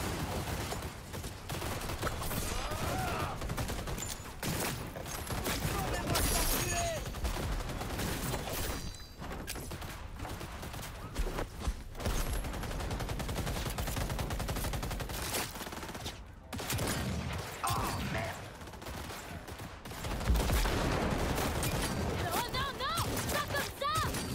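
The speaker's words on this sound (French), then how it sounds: "Ça tire de partout, quoi." Gunfire crackles from every side in Cyberpunk 2077, dense automatic bursts and scattered shots rolling on without pause, with crashes and game voices mixed into the loud firefight.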